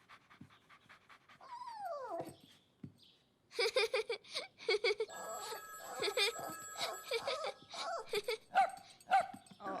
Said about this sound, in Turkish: Bu minik köpek telefon her çaldığında böyle yapıyor.